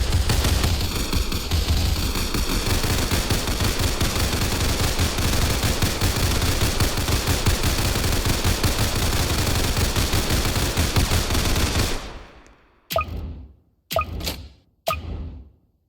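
The militant tower in Roblox Tower Defense Simulator fires a dense, continuous stream of rapid gunfire that runs loud for about twelve seconds, then breaks into three short separate bursts.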